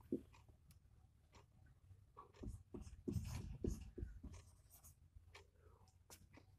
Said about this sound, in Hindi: यहाँ पर मैं लिख रहा हूँ